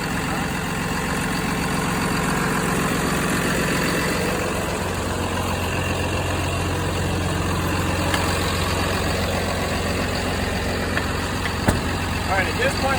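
A box truck engine idles steadily while warming up, making a constant low rumble close to the listener. It runs unbroken for the whole stretch, with faint background noise.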